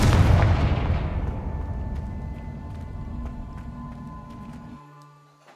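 Confringo spell explosions in the video game Hogwarts Legacy, a loud booming blast up front that rolls and decays into a long rumbling tail, with a faint tonal hum lingering underneath.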